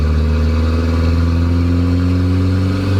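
A Volvo station wagon fitted with a Dodge Cummins turbocharger pulls at full throttle in fourth gear. A loud, steady engine drone rises gradually in pitch without pause, and no one talks.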